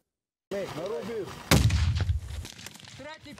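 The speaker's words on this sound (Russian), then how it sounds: "Взрывы, перестрелки, здесь все как на реальном поле боя" A single heavy explosion booms with a rumbling tail at a military training ground, while a voice talks in Russian before and after it.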